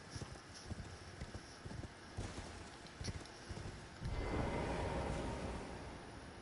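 Hooves of a galloping horse in the video game Elden Ring, a steady quick clatter that runs the whole time and swells louder and denser near the end, with no voices.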